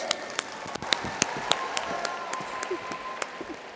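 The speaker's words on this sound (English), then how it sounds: "Let's give one more round of applause to all our Star and Agriculture Placement finalists." A sparse audience claps at a state agricultural convention session honoring award finalists, with distinct individual claps spaced over a faint background and no sustained roar.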